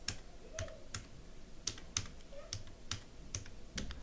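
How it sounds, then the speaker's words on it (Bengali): Keys clatter on a computer keyboard while someone enters job responsibilities into a description field on a freelancing profile, with irregular clusters of close, moderately quiet clicks and brief pauses between them. "এখন ডেসক্রিপশনের ঘরে আমি একটি ডেসক্রিপশন লিখে দিচ্ছি"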